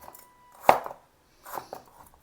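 A knife chops bitter gourd into small pieces on a board, one sharp close chop followed by a few softer cuts with pauses between.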